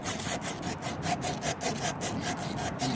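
Rhythmic back-and-forth rasp of sandpaper on a small wooden knife handle for a bird skinner, close and steady with repeated strokes about every half second.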